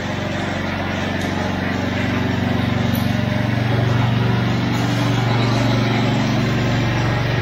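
A power trowel's small petrol engine drones steadily while finishing tightening concrete, throttle raised and blades pitched steeper, a continuous close hum that swells slightly over the clip.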